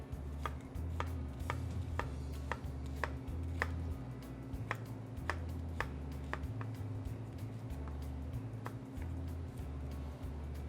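A sharp Damascus steel knife chops an onion on a board in a quick, even series of crisp taps over a low hum of background music, with no voices.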